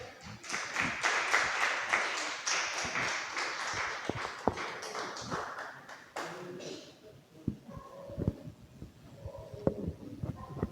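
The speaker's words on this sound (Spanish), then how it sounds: "Aplausos para nuestro Dios." A church congregation bursts into applause: full, rapid clapping at first that thins into scattered individual claps and murmurs as it dies away.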